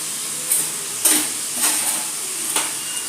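Soy sauce splashes into a hot pan of chilli paneer, setting off bursts of sizzling and stirring, with several sharp clatters of a spoon against the pan over a steady frying hiss.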